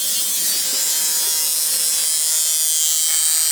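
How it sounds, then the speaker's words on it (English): Welder buzzing steadily on an aluminum turbo pipe transition in a shop, a continuous bright hissing crackle held at even loudness for several seconds without pause or voices. "Will's actually back here welding on the aluminum right now."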